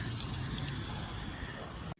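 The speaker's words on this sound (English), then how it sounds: "Water runs off right away." Water streams and sheets off a ceramic-coated car windshield in a continuous close splashing rush, steady for about two seconds before cutting off abruptly.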